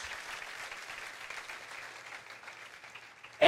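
Soft, steady applause from a church congregation, many hands clapping at a moderate distance, ending in a sudden loud bump.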